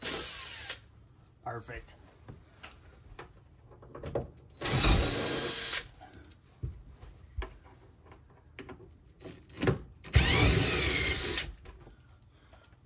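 A power drill removes bolts from a car's rear seat while a Shelby GT350R is worked on. It gives three loud, close bursts of about one to two seconds each, separated by ratcheting clicks and handling noise, and someone speaks briefly.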